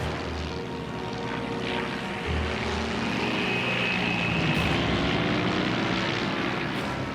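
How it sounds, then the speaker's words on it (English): Dornier propeller aircraft engine roaring at open throttle over a dam, a loud, sustained drone that swells slightly partway through and carries on steadily without any voices. "He opens the throttle, a life or death attempt to level the plane."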